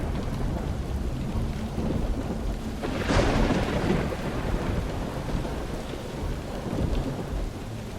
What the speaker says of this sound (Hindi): तेज बारिश, बिजली,